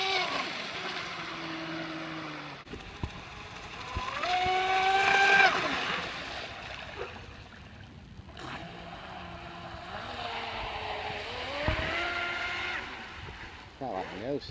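A Proboat Blackjack 29 RC boat on LiPo power whines past at a distance, its electric motor rising and falling in pitch across several passes, with brief talk in between.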